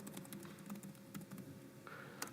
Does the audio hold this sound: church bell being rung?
no